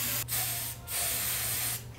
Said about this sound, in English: Spray the shit out of it.